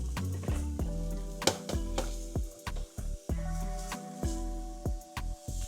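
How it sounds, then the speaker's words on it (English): Steamed cauliflower rice crisps in a pan on a stovetop, a quiet sizzle broken by repeated knocks and scrapes of stirring against the pan at an irregular pace, with no talking. "now all I'm doing is crisping it up on this stove"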